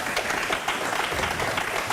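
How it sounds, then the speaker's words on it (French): Studio audience applause on a French talk show, a dense steady wash of clapping filling the short span at moderate loudness, with crowd noise blended in. "elle leur fait applaudir le public"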